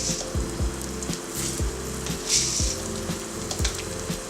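Fenugreek, cumin, coriander seeds and chana and urad dal sizzle steadily in hot oil in a pan for sambar, a continuous close frying crackle with a low rhythmic thumping beneath and no talk.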